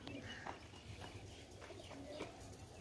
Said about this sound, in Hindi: ये देखिए छत पे कबूतर है